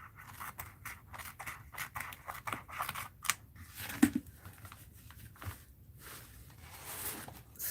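Scissors snipping small darts into paper for a mixed-media art journal, a rapid run of close, crisp cuts followed by a few slower, scattered snips and quiet paper handling.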